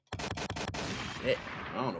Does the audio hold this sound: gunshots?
yes